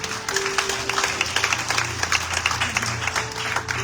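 Church congregation applauding during a Sunday worship service, dense steady clapping from many hands throughout, fairly loud and close, with a low hum underneath.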